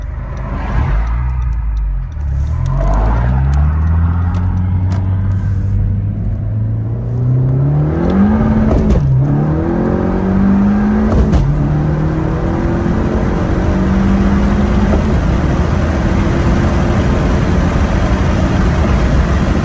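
Engine of a 10th-generation Honda Civic idling after a head stud install, loud and close: a steady hum whose pitch climbs at first, then settles lower as the cold-start idle drops, with no talking.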